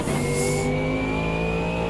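Race car engines in the Automobilista 2 sim racing game, a steady loud droning whine holding a constant pitch as a rival car pulls alongside on the outside, with no talk.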